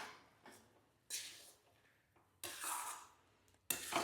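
Small kachki fish are stirred by hand into a chop mixture in a bowl, giving soft wet mixing noises in several separate bursts with quiet pauses between them.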